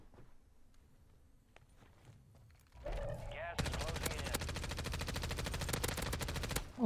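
Rapid automatic gunfire from an MCW submachine gun in Call of Duty on Rebirth Island, a loud sustained burst of tightly spaced shots after quieter footsteps and movement.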